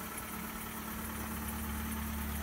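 A gasoline car engine idles with a faint, steady, even hum and slight vibration, with no one talking.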